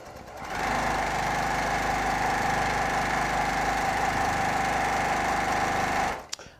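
A Baby Lock Accomplish sewing machine running steadily at high speed, a loud, even mechanical whir that holds for about five seconds, then cuts off abruptly.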